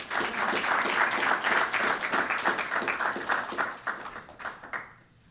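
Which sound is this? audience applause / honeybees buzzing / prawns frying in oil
audience applause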